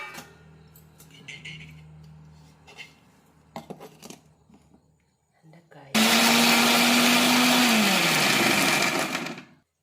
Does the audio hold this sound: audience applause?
no